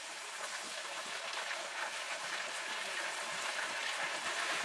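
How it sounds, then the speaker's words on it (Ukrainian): Steady, dense sizzling and crackling of chicken liver frying in a little oil in a pan, a continuous hiss with fine pops throughout. "Я обсмажу на невеликій кількості олії до скоринки з обох сторін."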